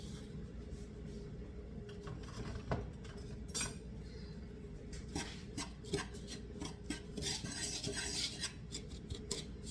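Buttermilk bread ingredients mixed in a bowl, with steady scraping and clinking of a utensil against the bowl, continuous and close, a few sharper knocks throughout.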